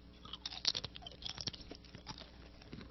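A homemade dehydrated chip is chewed with quiet, close crunches and crackles in an irregular rhythm, faint and intimate.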